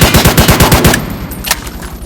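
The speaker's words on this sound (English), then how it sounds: "That G3 rifle does 23 damage per shot." G3 rifle gunfire in the Roblox-style shooter War Tycoon: a rapid, loud burst of about eight evenly spaced shots, then a trailing echo and a lone later shot.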